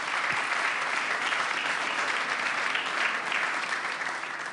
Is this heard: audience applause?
yes